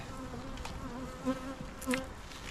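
Honey bees buzz steadily around a beehive on a farm, a faint continuous hum with a few individual bees droning closer past the microphone.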